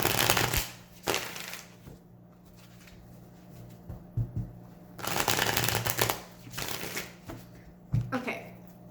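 Tarot cards being shuffled in several brisk riffling bursts, close by, with quiet pauses between them and faint background hum.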